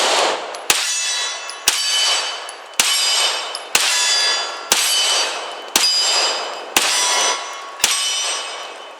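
A Sig P320 X VTAC pistol, slide cycled on a snap cap, gives a sharp metallic clang roughly every second, eight or nine evenly spaced strikes in all, each with a ringing tail and no talking.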